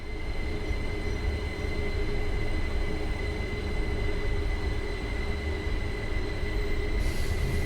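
Carriages of a Bernina Allegra train in Train Sim World rattle and clatter steadily while running slowly through a street section, a loud continuous rumble with a faint squeal of wheels on rails.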